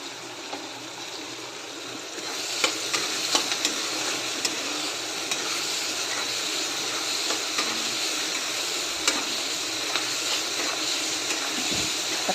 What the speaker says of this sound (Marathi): कांदा टोमॅटो चांगले भाजत आलेले आहेत